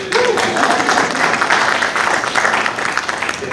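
Audience applause at a business speaker series event, a steady wash of hand claps filling the room, fairly loud and continuous throughout without a clear build or fade.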